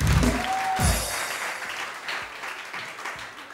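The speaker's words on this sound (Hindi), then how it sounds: "लेडीज एंड जेंटलमैन, रोज के लिए बहुत सारी तालियां, बहुत सारी तालियां।" Clapping rises from a morning TV show studio audience, a fairly close, uneven patter that fades gradually, while brief tonal sounds and light background noise sit underneath at the start.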